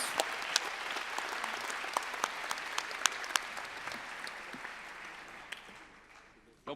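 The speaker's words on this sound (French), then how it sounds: "je vais vous demander de les applaudir." Audience at a doctoral graduation ceremony applauds the ceremony staff, sustained, fairly soft clapping with a few sharp individual claps standing out, gradually thinning toward the end.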